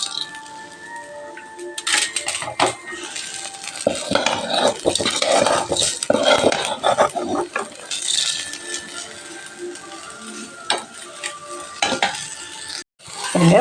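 Fried dal being scooped out of a pan for manathakkali chutney, with steady scraping and clinking of a spoon against metal over a light background sizzle, close and continuous with sharper knocks throughout.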